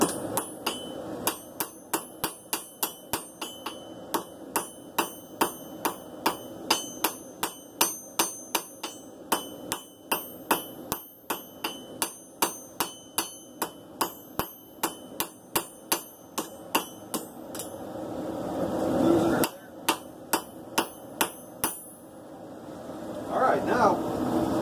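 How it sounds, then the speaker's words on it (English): Light hammer blows on an anvil while forging a simple steel blade, a long run of evenly spaced ringing strikes close by with a short pause near the end, as someone talks over them. "You see I'm working over the edge band, backing it down, and then nice light hammer blows."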